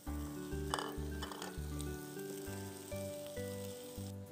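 Boiled chana, black-eyed cowpeas and whole mung beans sautéing in a pan for a Gujarati mixed vegetable kathol, a close, steady sizzle with intermittent stirring scrapes and no talk.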